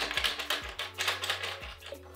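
Bumper hits on a 1980 Game and Watch pinball handheld: quick clicking taps repeat in a fast uneven run, with small low electronic beeps in between, close and fairly quiet with no talking.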